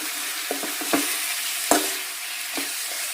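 Salted wild mango pieces are stirred through hot oil in a frying pan for a gravy, with a few sharp scraping strokes of the spoon over a low, steady sizzle.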